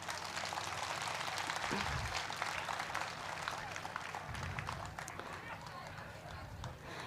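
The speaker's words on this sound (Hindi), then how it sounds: "कृपया सम्मान स्वरूप जोरदार तालियां बजाएं।" Audience at a Lievens Day ceremony gives enthusiastic clapping while honorees receive shawls, a dense continuous patter of applause heard from a distance, with faint voices underneath.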